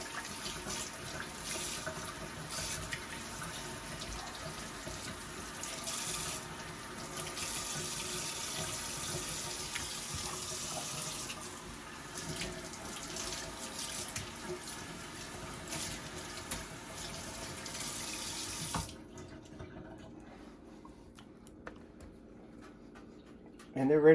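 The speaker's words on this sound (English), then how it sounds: "rinse them off in some cold water." Cold tap water runs steadily into a sink while catfish fillets are rinsed, a continuous hissing splash that holds for nearly twenty seconds before shutting off abruptly; speech is heard over it.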